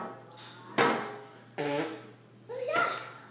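A child imitating fart sounds with the voice, three separate mouth blurts of rising loudness, close and alone.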